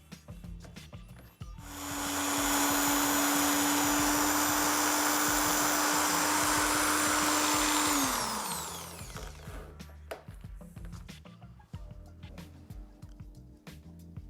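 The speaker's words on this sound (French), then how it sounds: "on va la mettre sur le mandrin d'une perceuse." An electric drill spins a plasma cutter cathode in its chuck, whirring at a steady high pitch for several seconds, then winds down, with clicks and handling noises before and after.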